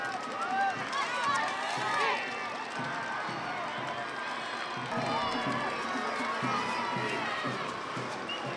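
Crowd noise at a grand final parade: a steady wash of cheering and shouting voices, with nearby speech carrying over it.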